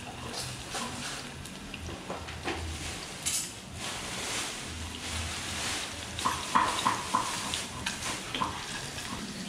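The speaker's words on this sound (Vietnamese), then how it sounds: "sẽ làm nấm để chúng ta xào cái nấm lên" Mushrooms stir-fry in a pan for a vegetarian mung bean and abalone-mushroom porridge dish, giving a continuous sizzle with scraping stirring strokes and a few sharper clinks near the end.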